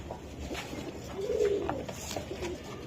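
A pigeon coos softly in short, low phrases against a faint, noisy background.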